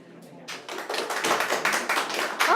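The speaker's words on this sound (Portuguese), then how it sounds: "Ah, não precisa aplaudir não" An audience at a spiritist lecture breaks into applause, a dense patter of many hands clapping in a hall that swells and carries on steadily.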